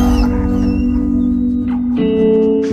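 A dog whimpers and whines in high, wavering tones, close and loud, with short rising cries over a low background hum.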